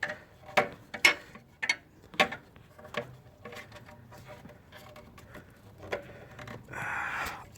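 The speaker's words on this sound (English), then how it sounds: "Now we're gonna get our socket, ratchet" Socket ratchet working a spark plug on a 2004-2008 Pontiac Grand Prix, a run of sharp close clicks and ticks, louder at first then softer, ending in a brief rustling burst.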